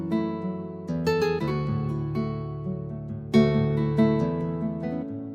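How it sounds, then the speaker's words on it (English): An acoustic guitar voice played on a Korg PA5X arranger keyboard, lightly treated with reverb, rings out in strummed chords and picked notes, with fresh attacks near one second and just past three seconds, close and clear with no talking. "this is a really nice acoustic guitar with some basic effects on, but nothing too dramatic"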